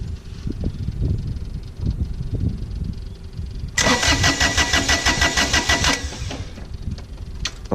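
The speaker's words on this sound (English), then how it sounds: "And now we'll let this tractor warm up." Kubota BX1860 compact tractor engine running and warming up, a steady loud mid-pitched throb that suddenly rises into a harsher, rattling higher-pitched roar for about two seconds before dropping back to the idle rumble.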